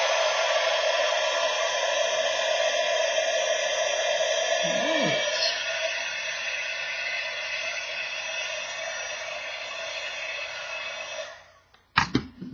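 A heat tool blows a steady, airy hum while heating embossing powder, running close and even for about eleven seconds before switching off with a few small clicks and handling noises.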